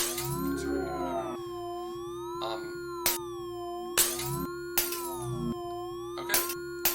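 Pure synthesized sine tones generated from PureScript code, steady sustained pitches with slowly wavering, sweeping overtones, punctuated by several short sharp clicks or bursts; no voices.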